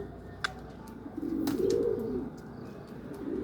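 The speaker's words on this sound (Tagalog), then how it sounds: "Ayan mga kalapatids, oh." Pigeons coo softly at a loft in the morning, a low rounded call swelling at mid-clip, with faint chirps and a brief flutter over steady background hum.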